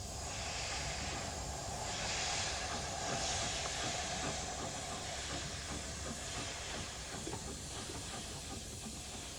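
A GWR 1400 series steam locomotive on a branch line gives off a continuous, fairly faint hiss of escaping steam, steady and broad, with no voices heard.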